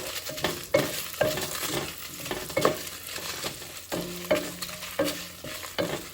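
Dried red chillies and tamarind frying in a pan for Andhra-style minamala pachadi, a steady close sizzle broken by repeated scraping and stirring strokes of a spoon.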